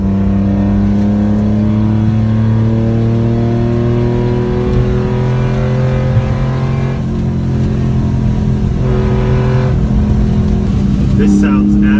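A Honda Acty kei truck fitted with a loud aftermarket exhaust drones close by as the engine holds and climbs in revs, with a buzzy, raspy tone and a person talking over it.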